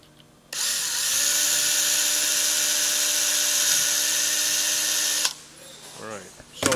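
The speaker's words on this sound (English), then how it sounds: "we want to cross drill it so that the solder has someplace to really adhere" A power drill cross-drills a hole in a choke cable end to take solder, a high steady whine running about five seconds before cutting off, with someone talking briefly afterward.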